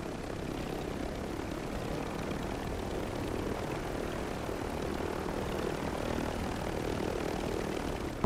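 A helicopter flies in a shooter video game, its engine and rotor droning as an even, continuous mid-level rumble with no voices over it.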